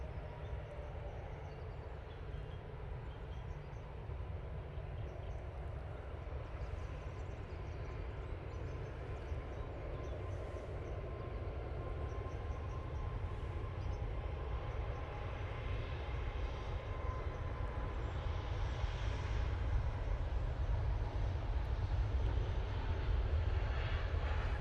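An easyJet-style orange airliner departs Manchester Airport for Amsterdam Schiphol, a distant low engine rumble rolling steadily and building slightly over about twenty-five seconds.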